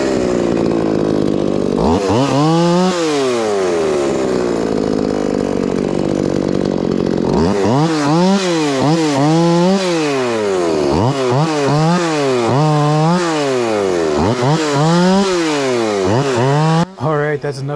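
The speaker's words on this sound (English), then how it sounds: "this saw is really good when you're just trimming up some small stuff and you're in the middle of a lot of brush. 14 inch bar, works great." A chainsaw with a 14 inch bar cutting maple, its engine loud and close, revving up and down repeatedly as it bites into the wood between brief idles.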